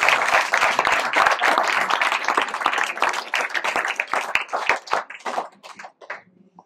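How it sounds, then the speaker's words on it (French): An audience claps for a worker receiving a silver medal for 20 years of service at a local awards ceremony; dense, loud applause that tapers off and fades out near the end. "Je pense qu'on peut l'applaudir."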